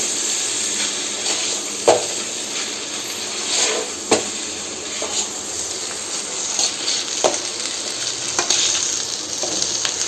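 Vegetables and noodles sizzle steadily in a hot pan while a utensil stirs and scrapes through them, with occasional sharper clicks over a continuous frying hiss; no one speaks.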